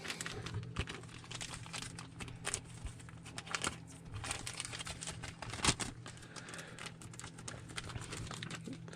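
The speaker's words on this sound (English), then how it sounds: "Put our nav data card back in the plastic bag here." Dense crinkling and rustling of a plastic bag, continuous for several seconds with sharp crackles, over a steady low hum.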